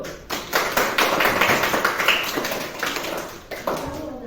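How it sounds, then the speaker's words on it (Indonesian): Classroom of children clapping together at a teacher's request, a lively, steady burst of many hands close by that holds for about four seconds with a brief dip near the end. "tepuk tangan dulu"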